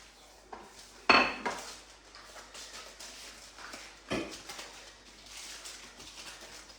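Biscuits sealed in a freezer bag are whacked into fine crumbs, giving a few sharp, separate thumps and rattles spaced apart in a quiet room, the loudest hit near the start and another a few seconds later.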